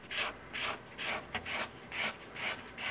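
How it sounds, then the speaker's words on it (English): A small hand scraper glides over the wooden top of an archtop guitar, producing six soft, rhythmic shaving strokes, each a brief hissing scrape, close and quiet with no talk. "this little scraper is basically just erasing the tool marks"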